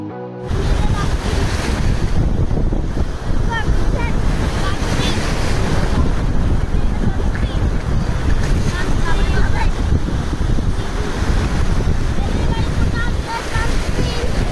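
Waves wash onto Rushikonda beach in Vizag in a loud, continuous surging roar, heavy wind noise rumbling over the microphone the whole time.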